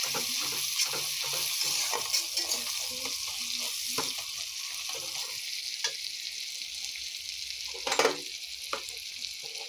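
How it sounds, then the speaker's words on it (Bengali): Onions and tomatoes fry in a pan with a continuous loud sizzle, broken by repeated close stirring scrapes and clatters of a utensil, with no talking. "ততক্ষণ থেকে পেঁয়াজ ভাজছি আর টমেটো ভাজছি"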